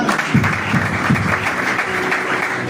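A church congregation at a Bible teaching breaks into applause. The clapping is rough and crowded, with a few heavier low thumps near the start and a faint voice underneath.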